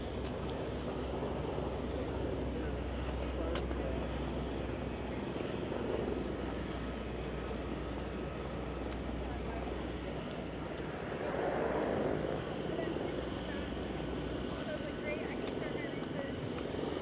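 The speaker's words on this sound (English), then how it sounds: "That would be our seaplane" A seaplane drones in over Coal Harbour, Vancouver, heard from the seawall path as a distant, continuous engine roar that swells briefly, with a voice talking over it.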